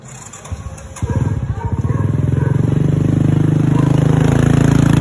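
A motorcycle engine is started with a few rough catches, then settles into a loud, close, steady idle with a fast, even putter.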